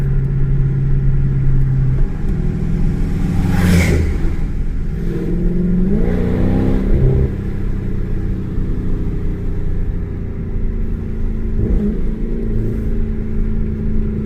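A car engine labours and revs steadily while descending a mountain road, with a loud continuous rumble and a pitch shift mid-way as the transmission moves into another gear.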